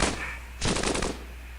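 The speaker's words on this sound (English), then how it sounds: "We can hit him with a zip gun." A zip gun firing in the robot roguelike game POLYBOT-7 gives a single short, rapid rattling burst of gunfire between quieter stretches of low background hum.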